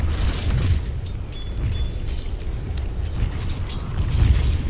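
A tower in Dota 2 explodes and burns down, heard as a sustained, rumbling low boom with crackling fire and scattered mechanical clatter, loud and continuous throughout with no voices.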